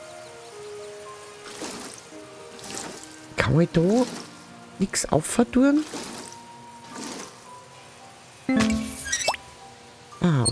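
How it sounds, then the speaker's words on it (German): Water splashes from a watering can onto plants in the farming video game Fae Farm, several short bright bursts spaced across the stretch, with a person talking in between and a soft game backdrop. "Gießen."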